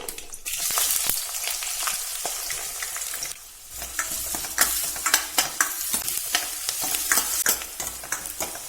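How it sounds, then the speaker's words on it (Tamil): Finely chopped large onions and green chillies sauté in hot oil for a side dish, with a continuous bright sizzle and frequent sharp stirring clicks and scrapes. The scraping grows busier in the second half. "2 பெரிய வெங்காயம் இந்த மாதிரி பொடியா அரிஞ்சதையும் சேர்த்துக்கிறேன்."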